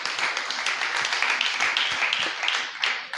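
A church congregation applauding during a French-language service: steady, lively clapping from many hands that keeps up throughout and fades slightly at the end.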